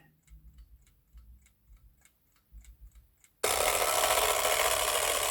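A vintage German wind-up alarm clock with a replaced mainspring ticks in a steady, quiet, close rhythm for several seconds, then its bell alarm abruptly bursts in, loud and continuous, drowning out the ticking.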